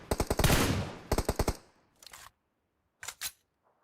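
Rapid bursts of automatic gunfire from a PUBG Mobile tournament match, a dense loud spray followed by a quick volley, then shorter separated bursts trailing off, with no talk.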